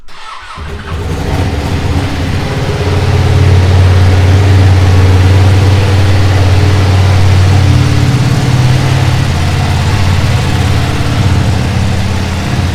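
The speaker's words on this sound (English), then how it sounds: "let me give you a couple of reps of the Panigale V2 as well, because why not?" A Ducati Panigale V2 motorcycle, untuned, fires up and holds a loud, close, steady rev with a deep throbbing drone, no voices over it.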